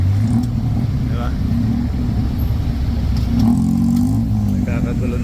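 Road traffic on Sukhumvit in Bangkok from a moving tuk-tuk, a continuous low engine rumble with revving surges and passing vehicles, loud and close, with people talking over it.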